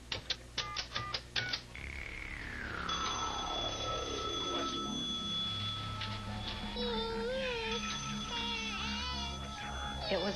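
A telephone rings in a home during a residential robbery, several quick repeated bursts at the start, followed by a long falling tone and a muddle of other sounds under faint voices.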